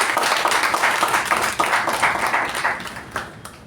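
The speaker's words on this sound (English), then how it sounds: "I think we should give a round of applause for her" Audience applause at a Toastmasters club installation ceremony: a steady wash of many hands clapping, fairly loud and continuous, fading slightly toward the end.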